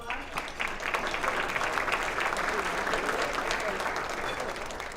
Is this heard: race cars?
no